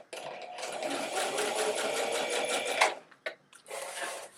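A home sewing machine stitches fabric for a 1940s-style pajama lounge set, running in a fast, steady rattling burst for nearly three seconds, then stopping, then starting again in a short second run.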